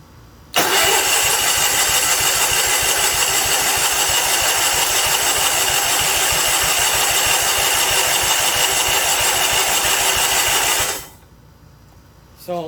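Engine of a 1977 Sears 16/6 garden tractor cranking over steadily for about ten seconds with a fast, even rhythmic chug that never catches, loud and close, then stops abruptly.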